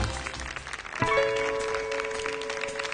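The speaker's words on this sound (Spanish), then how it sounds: "El aplauso entonces para Bruno Ragone y Alejandra Maglietti." Studio audience applause on a televised singing competition, a dense wash of clapping that swells around the one-second mark as music begins underneath, sustained tones rising through the crowd noise.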